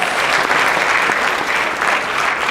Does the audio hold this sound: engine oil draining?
no